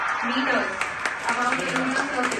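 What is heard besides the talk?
ISRO scientists applauding after Chandrayaan 3 descent phase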